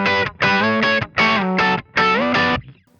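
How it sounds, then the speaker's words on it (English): Distorted electric guitar playing a lead riff in loud, choppy bursts of sustained bright notes with short gaps, ending in a fading tail. "this is the part where there's a big crescendo and then it cuts to just this guitar"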